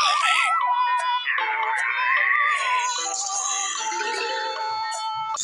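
A loud electronic phone ringtone with a warbling, looping melody keeps sounding steadily for several seconds, close and continuous, while the Plants vs. Zombies game plays along.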